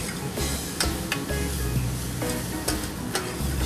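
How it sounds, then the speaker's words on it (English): Mushrooms and grilled asparagus sauté in a hot pan, a steady close sizzle broken by repeated sharp clicks and scrapes of a spoon or spatula against the pan, with no speech. "I want to add my mushrooms and my grilled asparagus to this mixture. And just saute that until the mushrooms are cooked through"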